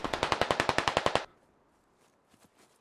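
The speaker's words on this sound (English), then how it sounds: "Shots fired." A rapid burst of automatic gunfire in the military shooter game Squad, about a dozen evenly spaced loud shots, then a near-silent pause with faint distant pops.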